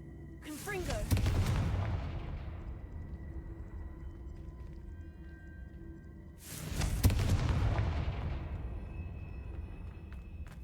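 Two heavy blasts of the Confringo spell in Hogwarts Legacy, each a sudden loud crack that swells into a long rumbling roar and fades over several seconds, the second arriving about six seconds after the first.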